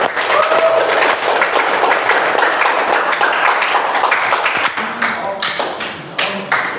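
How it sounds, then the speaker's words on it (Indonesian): An audience applauds for group 6 at a school presentation, steady dense clapping from a room of people that gradually thins into scattered claps toward the end. "Berikan aplaus untuk kelompok 6."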